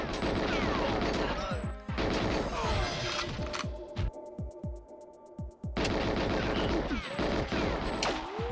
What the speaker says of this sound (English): I don't even know where they're shooting from.